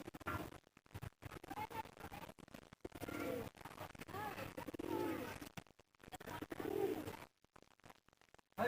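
Madras and Giribaz pigeons coo in low, repeated bursts at a home loft, with scratchy movement and a voice talking over the birds.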